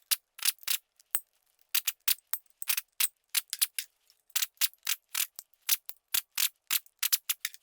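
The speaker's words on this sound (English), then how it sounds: "8mm bolts coming out." Rapid metallic ratcheting clicks as 8mm bolts come out of a Ford Ranger engine after an explosion, in short repeated bursts with brief pauses, close and crisp with no talking.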